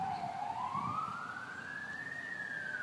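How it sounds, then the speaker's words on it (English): A faint, distant emergency siren sweeps upward in pitch and holds, over a low background hum. "Sirens, all that."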